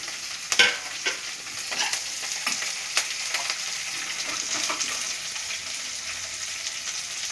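Two thickly cut onions fry in a pan for tomato kurma, giving a steady, loud broadband sizzle throughout, punctuated by several sharp stirring clatters from a utensil against the pan.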